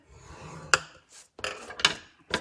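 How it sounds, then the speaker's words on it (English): Soft, close scraping strokes of a Simply Scored scoring tool being drawn across cardstock, a few brief rasps with small clicks between them, quiet and alone. "I'm going to be scoring at 4 3/4 of an inch and 9 1/2 inches"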